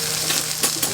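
Tongs shifting asparagus spears as they sauté in a pan, brief metallic clinks and light scrapes over a low, constant frying hiss.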